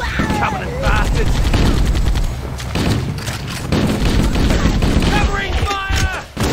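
Dense gunfire from Halo CE, rapid automatic bursts and heavy booms nearly nonstop, loud and close, mixed with shouting voices during the battle.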